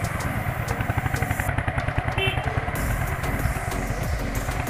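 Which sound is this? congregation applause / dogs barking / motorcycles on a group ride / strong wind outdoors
motorcycles on a group ride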